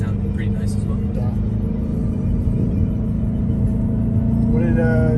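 Aston Martin DBX 707 SUV with its exhaust baffles open, a steady deep engine and exhaust rumble droning from inside the cabin while people talk over it throughout.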